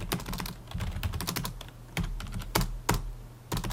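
Quick clicking keystrokes on a computer keyboard while setting up a network practice exercise, coming in irregular bursts with brief pauses, close and fairly quiet, no voices.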